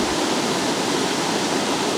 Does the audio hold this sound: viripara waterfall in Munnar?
yes